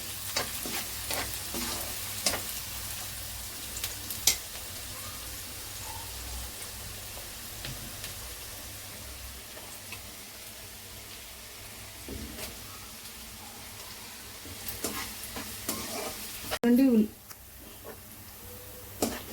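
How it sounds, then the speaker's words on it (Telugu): Onions fry in oil in a pan for a Godavari-style broad bean curry, a steady soft sizzle with occasional stirring clinks and a voice speaking over it. "ఉల్లిపాయలు కూడా కొద్దిగా దారగా వేయించుకున్నాను"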